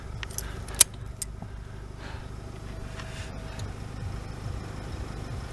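A key is jangled and turned in the ignition of a Kawasaki ZX12R motorcycle: a brief metallic jingle and a sharp click come near the start, followed by a few faint ticks over a low, steady background hum.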